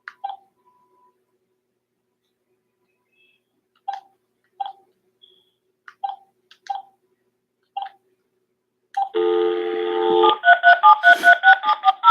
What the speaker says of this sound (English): Yeah, I dialed that right.